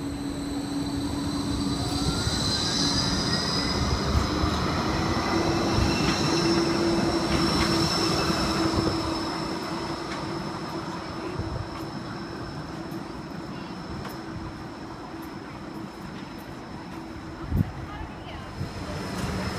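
A G:link light-rail tram pulls away from a stop in Surfers Paradise, a steady rolling rumble with a long high wheel squeal and a faint chime, later easing and ending with a sharp clunk.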